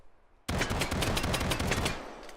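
A Luger 9x19 pistol fires a rapid burst in a VR video game, a loud, fast string of shots lasting about a second and a half that starts abruptly from near silence and then fades.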